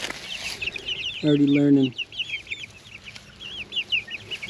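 Meat chickens newly moved out onto pasture cluck and chirp softly in the background, a scattered run of small calls with a short stretch of nearby talk partway through.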